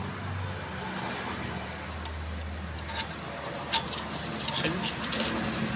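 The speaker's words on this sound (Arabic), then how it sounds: "افتح يلا القفل ده" Keys jangle in short metallic bursts near a replacement padlock at a car repair spot, with a steady wash of passing traffic and engine noise around them.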